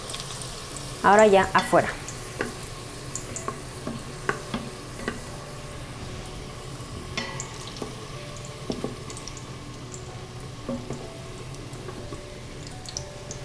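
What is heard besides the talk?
carnitas frying in lard in a pot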